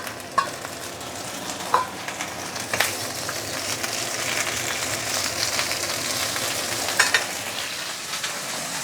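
Cabbage and other vegetables sizzle steadily as they stir-fry in hot oil, with a constant close hiss and a few sharp clinks of stirring.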